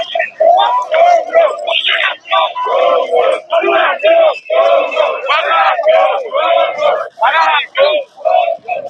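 Protesters at an Enough Is Enough demonstration in Monrovia shout and chant together in a loud, continuous mass of voices, with rhythmic bursts of yelling rising and falling throughout.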